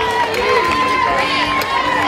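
A loud crowd cheers and shouts for a runner finishing the Music City Marathon, with a dense wash of voices and higher calls throughout.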